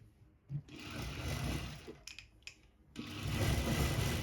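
A sewing machine stitches a neckband onto a fancy sharara top in short, close bursts of fast mechanical whirring separated by brief pauses.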